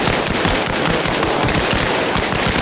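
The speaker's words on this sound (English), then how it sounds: "Smoke out. Pop smokes." Smoke grenades pop in the military game Arma Reforger, amid a loud, dense, unbroken barrage of crackling bursts and pops that fills the whole stretch.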